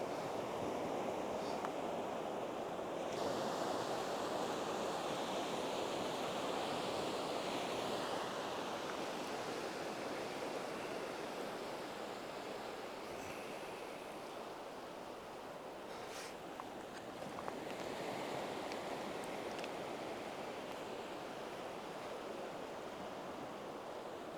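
Ocean waves breaking on a beach at sunrise, a steady broad roar of surf with no break, swelling and easing slightly as sets roll in, alone without voices.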